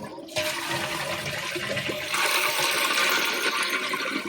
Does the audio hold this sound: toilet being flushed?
yes